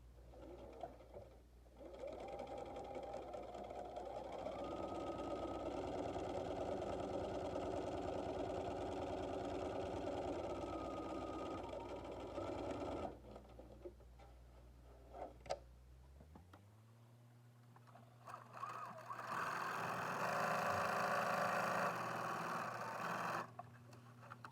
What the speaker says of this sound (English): we're just going to sew the entire length of that 7-inch side